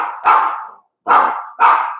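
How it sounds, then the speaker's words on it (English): A dog indoors barks three times in close succession, loud and near, each bark sharp at onset and trailing off, with a short pause between the first and second. "Bear with me, my dog is barking."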